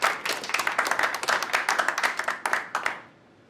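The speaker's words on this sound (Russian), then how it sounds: "Также аплодисменты." Audience applause at a pre-fight boxing press conference, a dense run of many hands clapping steadily for about three seconds before fading out quickly.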